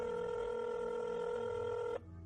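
A telephone dial tone holds steady and loud for about two seconds, then cuts off abruptly to a faint low hum.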